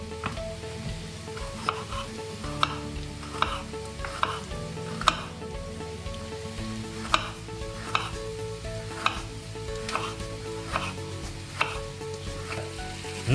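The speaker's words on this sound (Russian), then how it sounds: "Наши овощи вот так обжариваются." Strips of carrot, onion and pepper fry in a pan, giving a constant bright sizzle broken by regular scraping stirs roughly every second, close and fairly loud with no talking.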